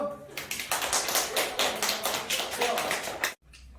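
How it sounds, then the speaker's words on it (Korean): Clapping from a classroom audience after a student presentation, a steady burst of handclaps at close range lasting about three seconds before cutting off sharply. "박수!"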